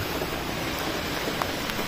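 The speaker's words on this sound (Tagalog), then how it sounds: "Walang hintong ulan." Steady, dense typhoon rain hisses continuously, a broad wash of noise with no pauses.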